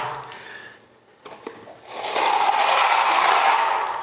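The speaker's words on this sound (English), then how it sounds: "It takes a good firm push to get that plaster to lay down." A trowel pushes plaster onto a wall, a few soft knocks followed by a sustained, close scraping smear that grows louder and holds for a couple of seconds, with no talking.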